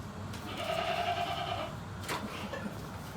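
A four-horned sheep on a farm in Mt. Airy, Maryland, gives one drawn-out bleat near the start, fairly close and moderately loud over faint outdoor background noise.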